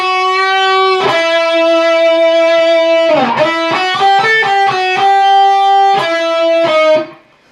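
The melodic section of a solo played on a distorted electric guitar, a loud, sustained lead line with slides and quick note changes, some notes held long, ending with a sudden cutoff.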